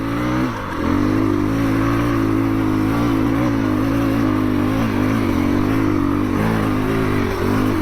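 A 2021 KTM 350 EXC-F dirt bike climbs a frozen hill in third gear at quarter throttle, its engine giving a steady, loud, close droning hum that holds throughout with slight pitch shifts and no speech.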